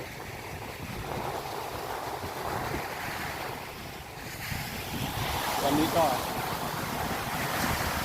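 Surf and gusting wind on Phayun beach in Rayong, Thailand under a cloudy, rainy afternoon sky, a steady broadband wash with wind buffeting the microphone; someone speaks briefly over it.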